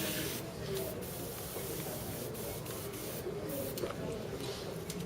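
An airbrush sprays a steady, continuous hiss with a few brief pulses, close and fairly constant throughout.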